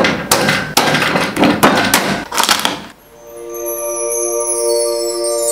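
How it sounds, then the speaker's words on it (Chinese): A knife chops through steamed butter crabs and ordinary female crabs, making several loud, close, heavy thuds of the blade hitting the board, then a ringing bell-like tone that follows and fades. "把普通母蟹跟头手黄油蟹先把它们从中间切开来对比一下"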